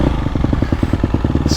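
A KTM 250 Factory Edition dirt bike, 2022.5 model, runs under throttle on a GP track, its engine giving a fast, pulsing buzz with rapid firing beats, loud and close throughout the short burst.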